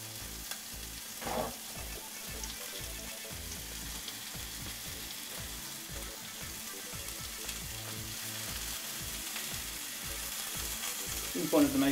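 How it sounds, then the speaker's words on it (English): Meatballs sizzle and crackle in a hot pan, a steady close frying hiss that runs unbroken throughout, with a few light clinks near the start and end. "So just chucking a couple in a nice little hot pan."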